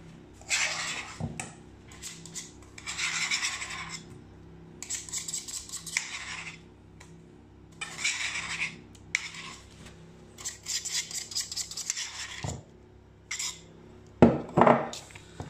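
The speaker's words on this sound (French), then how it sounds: "Là, c'est le moment où il faut bien remuer pour éviter que ce soit pas homogène." Spoon stirring and scraping banana bread batter in a bowl, repeated bursts of scraping strokes with short pauses between, close and fairly quiet, with a couple of sharper knocks against the bowl.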